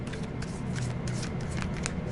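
Oracle cards shuffled by hand for a tarot reading, a steady, dense riffling rustle with soft repeated flicks running throughout, close and fairly quiet, with no talking.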